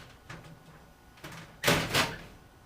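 Glass doors of a display cabinet holding model slot cars swing and knock shut, with a couple of soft bumps followed by two sharper clunks close by in a quiet room.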